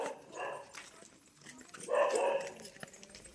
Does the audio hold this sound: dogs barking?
yes